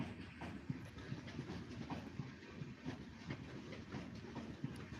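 A train pulls in at Mudi railway station, its wheels clattering rhythmically in a steady rumble, fairly faint and distant, with no voices over it.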